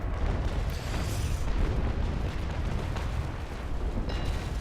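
Frigate cannon fire in a Naval Action Legends sea battle, a continuous heavy booming roar of broadside shots and rumble filling the whole stretch, loud and dense with no pause.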